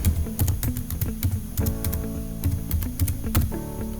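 A domain name being typed on a computer keyboard, a quick uneven run of sharp close keystrokes over a soft, steady background tone.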